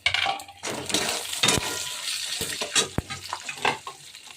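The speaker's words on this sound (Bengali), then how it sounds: "লঙ্কাগুলো ফাটছে।" Green chillies and panch phoron crackle and spit in hot oil in a kadai, with sharp pops and bursts over a steady close sizzle, no talking.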